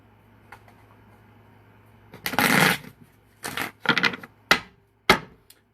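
Tarot cards being shuffled by hand close to the microphone, a quiet lull followed by four or five brisk riffling bursts of papery flutter, each ending sharply, with no talking.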